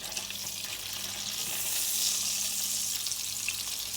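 Duck searing in a hot pan to brown and crust it, a steady close sizzle of frying fat that holds loud and even throughout, with no voices.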